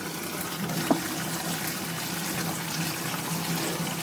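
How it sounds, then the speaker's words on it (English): Running water rinsing mung bean sprouts, a steady splashing pour with a small knock near the start, close and continuous. "All right, so just rinse those off"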